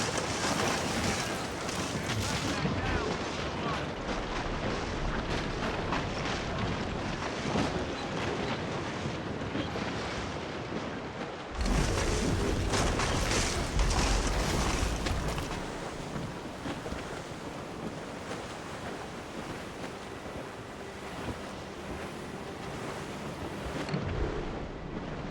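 A sailing ship cuts through an ice sheet in Assassin's Creed Rogue, a loud continuous rush of wind and churning water with a heavy surge midway, and no voices.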